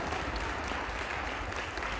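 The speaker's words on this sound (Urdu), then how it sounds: "اس کے لیے پہلے زوردار تالیاں" A congregation at a Christmas church service claps loudly and steadily, a dense wash of applause that fills the room without a break.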